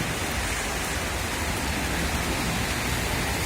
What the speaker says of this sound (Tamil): நல்லா இடியும் மின்னலுமா மழை வந்து இப்படி பொழியுது